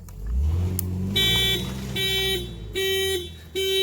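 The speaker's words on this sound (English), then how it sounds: "And the alarm goes off." A 2006-2010 Volkswagen Jetta MK5 car alarm blares in loud repeating bursts with short gaps between them, after a brief low engine-like rumble at the start.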